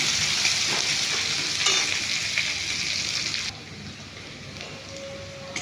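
Onion frying in a pan gives a loud, steady sizzle that drops noticeably quieter partway through, with faint scraping from stirring.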